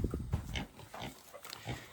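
Pigs on a farm grunt and snuffle close by in short, uneven bursts, some louder and some fainter, with no talking.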